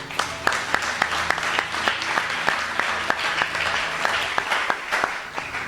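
A church congregation bursts into steady applause, dense clapping filling the room and holding at an even, lively level throughout, with no talk over it.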